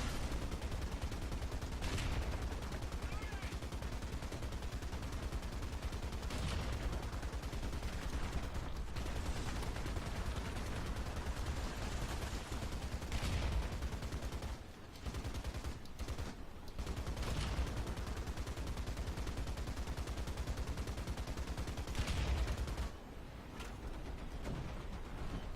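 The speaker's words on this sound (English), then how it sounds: "it's much easier to fire with the machine guns because they turn much faster than the actual gun" Rapid bursts of tank machine-gun fire in the War Thunder video game, continuous rattling volleys at a steady level with brief pauses and a few louder heavy shots.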